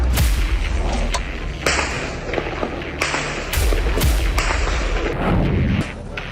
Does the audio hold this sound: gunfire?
yes